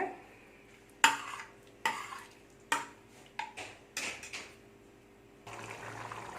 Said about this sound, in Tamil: லைட்டாக மசிச்சுட்டு இப்படி கிண்டி விட்டுருங்க